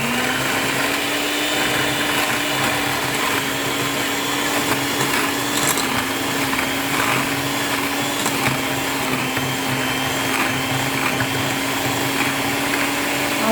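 An electric hand mixer whips boiled potatoes into creamy mash, a loud continuous motor whir that holds steady and close for the whole stretch with no talk.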